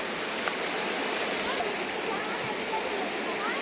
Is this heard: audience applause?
no